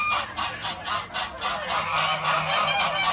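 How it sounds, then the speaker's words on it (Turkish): Geese at a goose farm honking close by, a rapid series of harsh, nasal calls overlapping in a continuous noisy chorus, with no talking. "Kazlar bana doğru geliyorlar."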